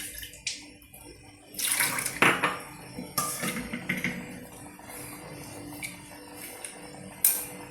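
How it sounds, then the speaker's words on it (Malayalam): Rinse water from a blender jar being poured into a simmering raw banana stem curry, with splashing and clinks of metal dishes and utensils in a kitchen, several sharp knocks punctuating steady liquid noise. "ജാറ് കഴുകിയ വെള്ളം കൂടെ ഒഴിക്കാം."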